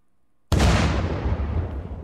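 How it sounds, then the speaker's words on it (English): A single loud explosion in the video game Unturned bursts suddenly after a moment of quiet, then rumbles and slowly decays into a fading, noisy tail. "Explosions make you bob."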